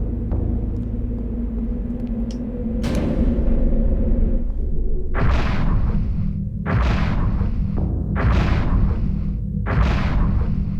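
Explosions in the video game Eternal Darkness: Sanity's Requiem: a low rumble builds, then four or five loud, sharp booms burst in quick succession, each with a short roaring tail.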